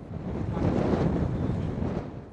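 Sea waves surge and break on a beach during a storm surge, with tides 4 to 6 feet above normal, as strong wind buffets the microphone in a steady, loud, continuous roar with no voices.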